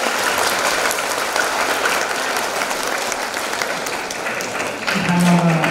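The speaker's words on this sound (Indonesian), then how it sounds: "Ya, tepuk tangan untuk semuanya." Sustained applause from the audience at a madrasah school graduation ceremony, dense and steady for several seconds, with a brief tone near the end.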